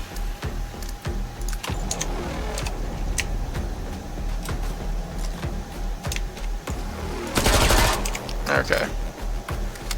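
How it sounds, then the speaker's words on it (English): A Tommy gun in the video game Killing Floor 2 lets out a short rapid burst near the end, after scattered clicky game noises. A voice speaks briefly. "Let's try the Tommy gun."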